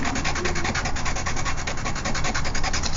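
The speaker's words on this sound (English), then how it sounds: "And then you have your sandpaper" Soft pencil lead, such as a 6B, is rubbed back and forth on sandpaper, giving a steady run of rapid gritty scraping strokes, close and fairly loud, with no voices.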